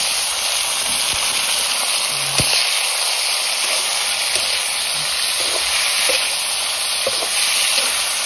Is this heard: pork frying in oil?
yes